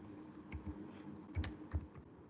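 Python code being typed on a computer keyboard, a few soft, scattered keystrokes and thumps, faint and close in a quiet room, with no talking.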